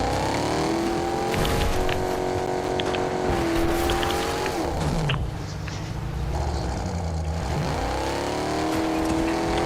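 A car driven in the Fortnite video game, its engine droning and shifting pitch with revs under continuous game noise, loud and steady throughout with a brief dip midway.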